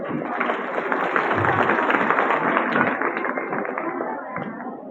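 A hall crowd at a Teli community haldi-kumkum gathering breaks into dense, sustained clapping that holds steady for several seconds before easing slightly at the end, loud and close.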